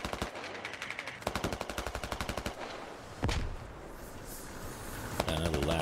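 Rapid bursts of automatic gunfire in the SquadOps video game, close and loud, with a sharper blast near the middle and scattered later shots over background battle noise.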